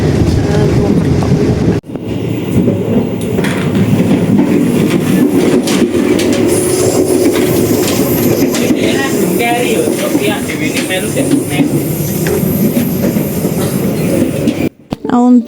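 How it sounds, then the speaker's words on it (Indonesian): Passenger train running on the rails near Cirebon station in Indonesia, a loud continuous rumble with wheel noise and faint squeals carrying on without a break, heard from inside the carriage. "kereta dan ini baru nyampe di stasiun, baru lewat di stasiun Cirebon."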